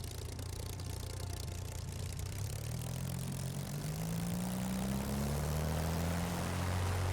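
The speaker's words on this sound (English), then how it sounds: "sounds from the outside of the aircraft. Look at that warble." A Spitfire Mk IXc's piston engine, heard from outside the aircraft in MSFS 2020, holds a steady loud drone with a rising warbling tone that swells toward the end.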